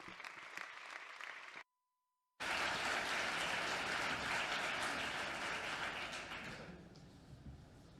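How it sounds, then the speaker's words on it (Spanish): Audience applause welcoming speaker Luis Planas at a campaign presentation: clapping is cut by a short silent gap, then returns as a full, steady round before tapering off near the end. "Un aplauso para don Luis Planas, por favor."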